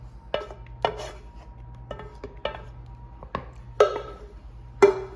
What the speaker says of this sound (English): We're gonna throw it in our bowl.